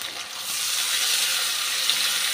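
Spiced masala paste for egg biryani frying in a hot pan, a steady, close, even sizzle with a watery hiss that holds at one level throughout, with no talking.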